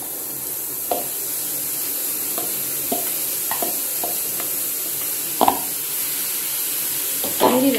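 Paneer stuffing for stuffed capsicum is stirred and sautéed in a pan over a low flame, a soft steady sizzle broken by close spatula scrapes and taps at irregular intervals, with no voices.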